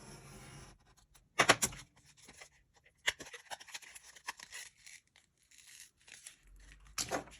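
A blade cuts through a silicone miniature mold in a few close, scraping and tearing strokes separated by quiet pauses, sharpest near the start and end.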